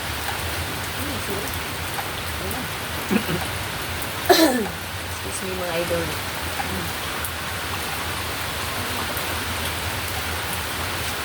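Steady rain falls on a surface throughout, a continuous hiss with a brief louder splash near the middle and someone speaking briefly over it.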